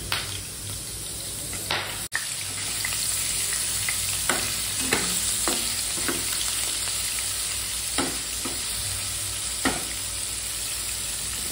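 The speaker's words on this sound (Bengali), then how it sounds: "এখন পনিরটা একটু ফ্রাই করে নিই" Paneer frying in a pan with a little salt, a steady loud sizzle running throughout, broken by several sharp scraping stirs at irregular intervals.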